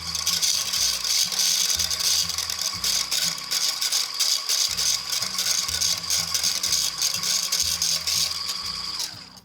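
An electric mixer whirs and rattles continuously at close range while blending egg whites into meringue as simple syrup is slowly added, a dense mechanical clatter that fades out at the end.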